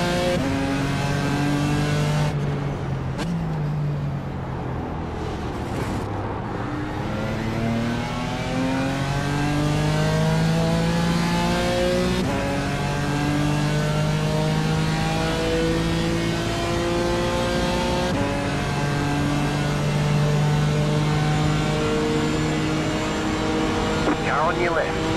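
BMW M4 GT4 race cars lapping a track in iRacing: a loud, continuous engine note climbs and drops through gear changes over about twenty-five seconds, with a voice speaking over it.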